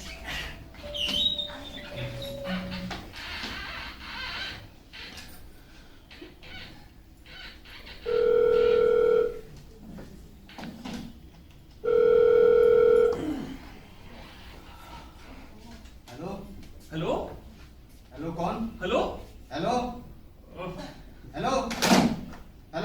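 Two loud, steady electronic tones, each about a second long, ring out a few seconds apart between stretches of conversation, like a phone line tone or dialing beeps.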